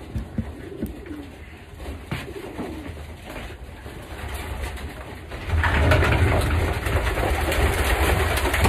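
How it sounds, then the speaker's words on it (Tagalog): Pigeons cooing inside a loft of imported racing birds, with soft overlapping coos and rustling throughout and a louder, denser rumbling wash joining partway through. "Yan po mga kalapati ni Mr. Nakamura, oh, gaganda."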